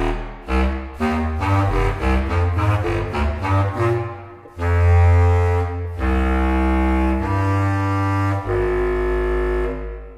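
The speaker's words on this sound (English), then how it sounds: "And that sounds like this, contrabass clarinet. Here we go." Deep, reedy contrabass clarinet tones play a slow low melody, with sustained notes and short phrases, loud and close, no voices.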